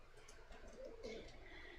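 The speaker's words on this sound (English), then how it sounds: "I think we can hear the birds singing up over there." Birds in the video game Indigo Park, soft cooing and chirping calls that drift in faintly from a distance over a low, steady ambient background.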